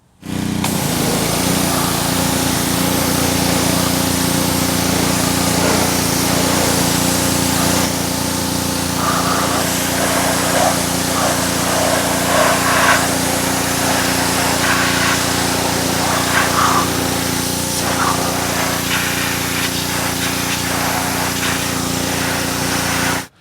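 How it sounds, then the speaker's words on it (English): A pressure washer rinses heavy dirt off a chrome wheel on a Mercedes-Benz SL55, a loud steady motor drone with hissing spray that shifts in texture as the jet moves across the wheel, continuous and close for the whole stretch. "we're gonna go ahead and pressure wash all of this off and get it really clean"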